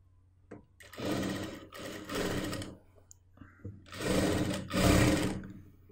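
Sewing machine stitching lining onto an old dupatta for a churidar, running in several bursts of steady whirring separated by brief pauses, fairly close and clear, with no talk over it.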